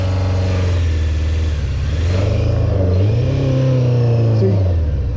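A Honda CBR600F4 motorcycle engine after a carburetor rebuild revs up and bogs down, the loud close engine tone rising and wavering unevenly under throttle, with no talk.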